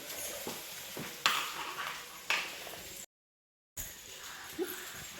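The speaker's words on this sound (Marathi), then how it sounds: "भाकरीच्या तव्यामध्येच भेंडी टाकलेली आहे परतायला" Okra frying in a bhakri griddle pan gives a soft continuous sizzle, broken by a few sharp stirring taps and a brief gap of silence partway through.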